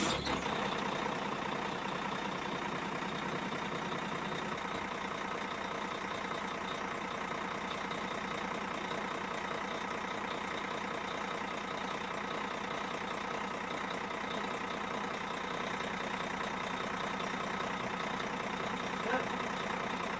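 A John Deere marine diesel in a Nordhavn engine room catches right at the start and settles into a steady, loud idle, a continuous rumbling drone that holds unchanged for the rest of the clip.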